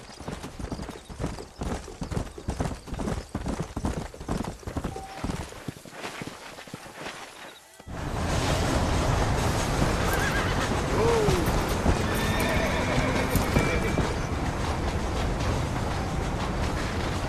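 A horse is ridden in Red Dead Redemption, rapid steady hoof clip-clops close by, then a loud rushing gallop with a brief neigh, no talk.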